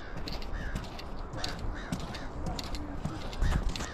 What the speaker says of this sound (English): What is it with the crows following us around?